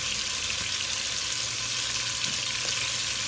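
Beef sears in a pot for pot roast, making a continuous loud sizzle and crackle with steady hiss throughout, with no speech.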